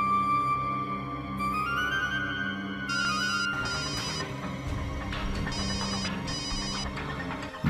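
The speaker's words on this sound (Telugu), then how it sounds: "బాంబర్ నుంచి ఫోను" A telephone rings in a Telugu CID crime drama scene, a steady electronic ringtone repeating loudly and close for several seconds with no talking over it.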